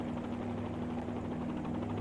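A helicopter hovering in a flight simulator game makes a faint, steady rotor and engine drone that holds an even pitch for the whole short stretch, with no voices.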